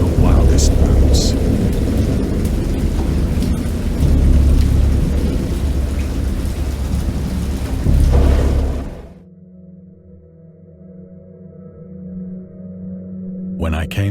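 A video game thunderstorm: heavy rain and rumbling thunder roar loudly, then cut off suddenly to a quiet low drone with a faint rumble returning at the end.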